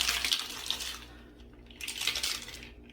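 Lidded cocktail shaker holding a tequila drink, shaken hard in two rushing bursts separated by a short pause, close and fairly loud.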